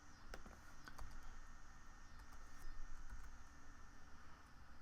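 Computer keyboard typing while cutting and pasting text, irregular close key clicks in short bursts over a faint steady hiss.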